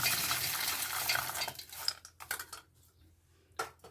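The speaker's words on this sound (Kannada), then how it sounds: "ಫಸ್ಟಿಗೆ ಶೇಂಗಾ ಕಾಳು ಹಾಕೋಣ." Peanuts pour into a mixer grinder jar as a dense, hissing rattle that thins into scattered clattering bursts and small knocks, with no talking.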